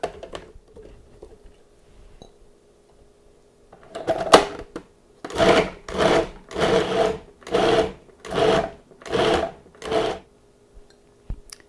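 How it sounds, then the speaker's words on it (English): A food processor chops ham in seven or eight short, evenly spaced pulses, each a loud close whirring burst separated by brief pauses, after some quiet kitchen handling sounds. "So I'm going to place my ham in my food processor."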